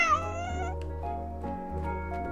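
A cartoon cat meows in the video game Calico, a bright, tonal mew with rising harmonics at the start, backed by steady game music that continues through the clip.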